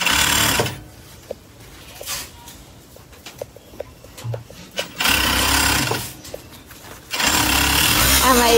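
A sewing machine closes the side seam of a doll dress, with close, loud bursts of rapid stitching separated by pauses in which someone talks and small clicks are heard.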